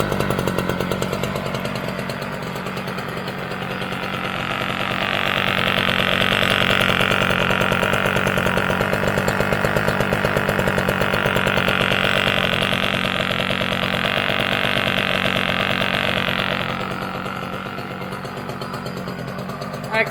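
Small engine of a vintage tiller with a cold engine, idling with a rapid, steady putter and loud popping, swelling louder in the middle stretch before settling back down.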